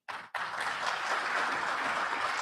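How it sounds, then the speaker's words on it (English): A conference audience applauds. Dense, even clapping starts abruptly, dips for a moment and then carries on strongly. "can we once again clap for Mr. Prasad for setting the tone for the"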